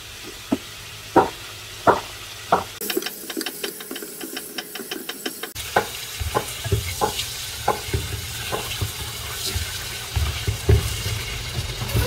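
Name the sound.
pork frying and stirring in sesame oil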